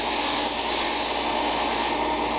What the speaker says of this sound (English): all you do is you start up the lathe, and all you have to do is just apply this groove to the lathe